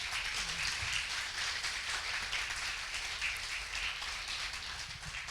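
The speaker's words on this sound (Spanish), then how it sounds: "Dale un fuerte aplauso a nuestro Dios, dáselo fuerte" A church congregation claps together in a steady, dense patter of applause that stays fairly even and moderately distant throughout, with no voices over it.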